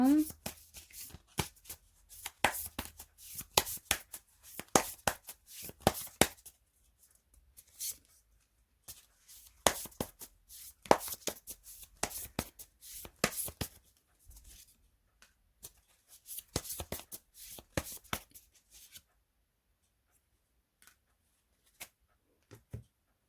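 Tarot cards being shuffled in bursts of crisp riffling and flicking, close and fairly loud, with short pauses between bursts and silence near the end.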